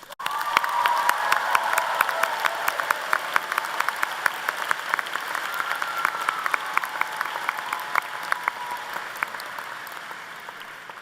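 A large audience at a university convocation applauds continuously, a dense wash of clapping that slowly fades over about eleven seconds.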